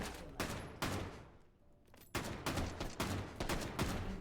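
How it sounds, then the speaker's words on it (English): Battle rifle gunfire in a competitive shooter video game: loud, sharp bursts that repeat about every half second, with a brief quiet gap in the middle before the rapid shots resume. "It's very satisfying to see the battle rifles just punch through that armor."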